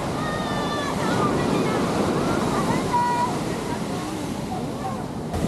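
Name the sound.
waves on a beach in the Colombian jungle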